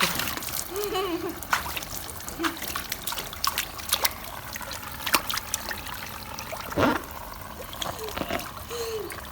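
A child splashes in water in short bursts of sloshing and dripping, irregular and close, with a steady trickle underneath and an adult voice speaking now and then.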